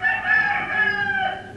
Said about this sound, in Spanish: Ya canta el gallo.